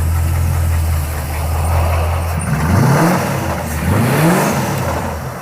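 A Pontiac Firebird engine idles with a low steady drone, then revs twice in rising and falling sweeps, a rough rattling knock running under each rev; close and loud, no voices.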